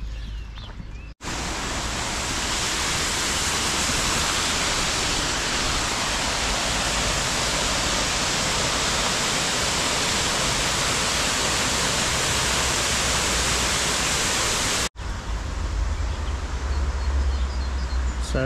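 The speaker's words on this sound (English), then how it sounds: "hopefully quite an impressive waterfall to check out" Duden Falls in Antalya pours as a loud, dense roar of water that holds steady for most of the stretch, with brief breaks near the start and end and no voices.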